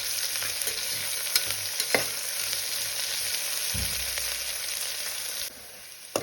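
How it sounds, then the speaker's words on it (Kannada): Onions fry in a pan with a steady, bright sizzle throughout, punctuated by a few soft clicks and scrapes of stirring, with no talking. "ಚೆನ್ನಾಗಿ ಫ್ರೈ ಆಗಬೇಕು ಈರುಳ್ಳಿ."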